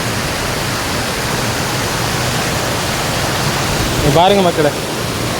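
Fast-flowing river water near Kondarangi hill on the way to Theni rushes as a constant loud, broadband roar, with someone talking briefly over it near the end.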